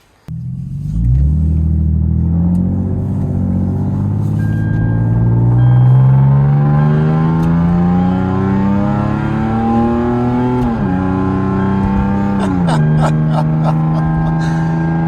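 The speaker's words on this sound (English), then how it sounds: "they deleted the mufflers and the resonator. So you got catalytic converters and then straight pipe right out to the back of the bumper." A Lexus IS250 with mufflers and resonator deleted, catalytic converters feeding a straight pipe out the back bumper, revs up close and loud, its engine note climbing steadily, dropping briefly, then surging again before settling.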